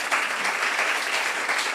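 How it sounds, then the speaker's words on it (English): Audience applause at an evening storytelling event in an art space, a steady dense patter of many hands clapping that holds at an even loudness from start to finish with no voices over it. "Let's give a big round of applause for Chloe."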